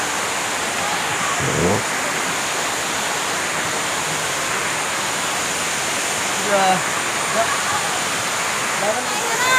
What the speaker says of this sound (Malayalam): ഒരു വെള്ളച്ചാട്ടമാണ് നമ്മൾ ഇവിടുന്ന് ജസ്റ്റ് നമുക്ക് കാണാൻ പറ്റുന്നുണ്ട്